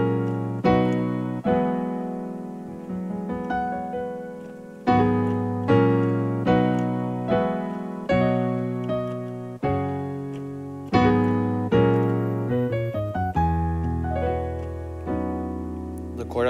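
Keyboard chords for a worship song, played with a clear, steady rhythm of sustained, repeated chords and a quicker run of notes near the end, loud and close with no voices.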